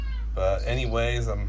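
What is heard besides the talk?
cat meowing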